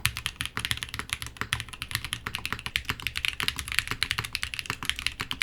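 Rapid, steady typing on a TKD Cycle7 mechanical keyboard fitted with PE foam, close and fairly loud, a dense run of muted, deep keystrokes with no talking.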